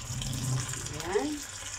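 Water pours steadily from a tap for cooking adobong sitaw in a home kitchen, a soft continuous splash running at moderate level with a brief brighter gurgle near the end.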